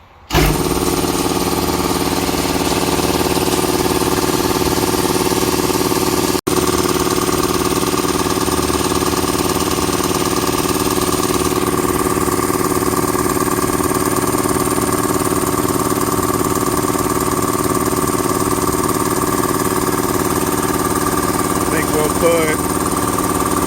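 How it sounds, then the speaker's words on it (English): An air compressor starts abruptly and runs without a break as it fills its tank, a loud, steady mechanical drone close by that persists to the end. "So let's put a little air in the compressor and see if we got any leaks."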